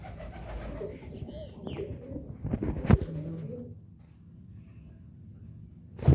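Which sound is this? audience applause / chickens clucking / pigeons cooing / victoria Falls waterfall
pigeons cooing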